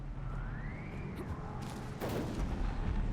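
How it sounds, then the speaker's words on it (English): Mass Effect 3 combat with explosions and gunfire, a dense roar of blasts and shots building louder after the midpoint, with a sweeping whine overhead and no talk. "Like, just absolutely getting slammed into walls, explosions happening."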